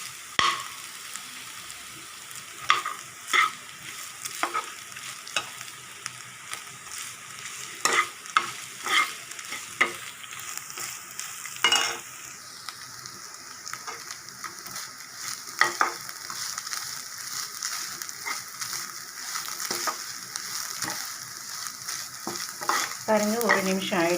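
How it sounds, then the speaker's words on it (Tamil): Grated coconut frying with beetroot poriyal in a pan, a steady sizzle with frequent stirring scrapes throughout, growing louder and denser toward the end. "இந்த மாதிரி தேங்காய் வந்து இந்த இதுலேயே ஃப்ரை பண்ணுங்கள்"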